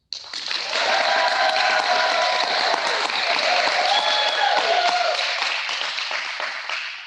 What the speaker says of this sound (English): Please join me in giving a round of applause for our second grade Rising to Excellence students.